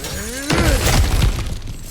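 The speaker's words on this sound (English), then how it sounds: "Ah, back to smashing through things for fun and profit" In God of War Ragnarok, cracked ground is smashed through, producing one loud, close crash that shatters into crumbling debris and quickly fades.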